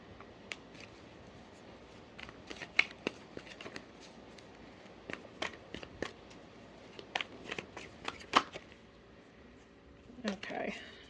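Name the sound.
shuffling tarot cards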